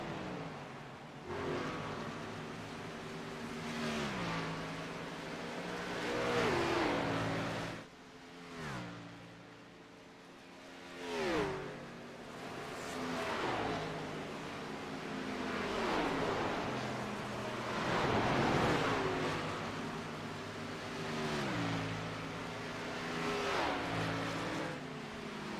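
Racing trucks battle for position on a raceway, their engines rising and falling in pitch as several pass by in waves, with loud surges between quieter gaps.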